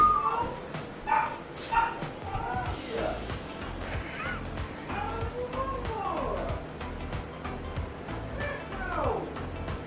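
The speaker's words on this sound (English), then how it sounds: "getting the dogs all worked up." Several dogs bark and yip excitedly in a mobile home, with short sharp barks and higher yelps scattered across the whole stretch, fairly close. Some whimpering mixes in, and a person's voice is audible underneath.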